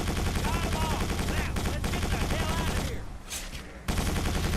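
Rapid bursts of gunfire from the video game Quake 4, dense and loud, broken by a short lull before the shooting starts again.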